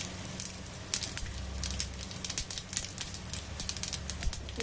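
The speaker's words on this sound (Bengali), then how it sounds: "কড়াই একটা তেল দিয়ে দিয়েছি একটু ফোড়নের জন্য, আর এবারে জিরে আর হচ্ছে সর্ষে ফোড়নে দিয়ে দিলাম" Cumin and mustard seeds sizzle in hot oil in a wok, a close, steady hiss scattered with sharp pops and crackles.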